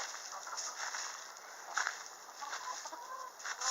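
Australorp hens cluck softly in a backyard flock, with scattered low clucks and chicken murmurs over a faint background hiss and no talking.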